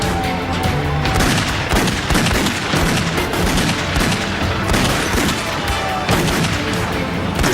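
A furious barrage of gunfire erupts in a police shootout among cemetery tombstones, dense overlapping shots and booms crashing loudly and continuously with no pause.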